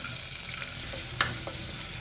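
Chopped onion hisses in oil with whole spices for a restaurant-style kurma, a low steady sizzle broken by a few sharp spoon clicks, quiet and without talk.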